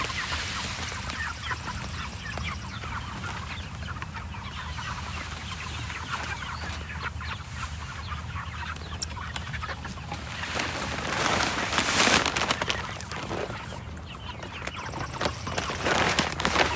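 A flock of chickens cluck and chatter steadily inside a large Peterson-style chicken tractor, dense overlapping calls at moderate distance, growing busier and louder toward the end with some knocking and scraping.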